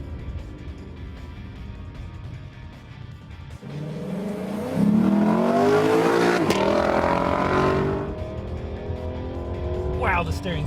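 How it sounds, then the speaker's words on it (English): An Aston Martin DB11 accelerates hard into a pylon course on a test track, its engine note rising loudly with a mid-clip surge before easing. Someone talks over it. "It accelerates so fast that entry speed into the first pylon is extremely fast."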